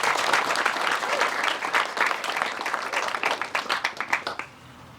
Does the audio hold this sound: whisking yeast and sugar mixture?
no